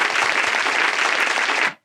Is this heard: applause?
yes